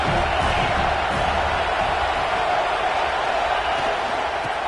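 Stadium crowd at an American football game, a steady broad roar of many voices with a faint cheering edge, continuous and loud throughout.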